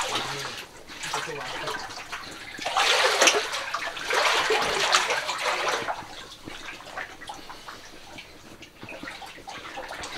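Clear spring water flows steadily near a forgotten village, with a broad watery rush that grows louder around the middle and then eases, while a person talks faintly over it.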